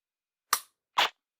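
Two sharp, dry clicks about half a second apart from a Glock 19 or Taurus TH9C pistol trigger snapping during laser dry-fire practice, close and alone in silence.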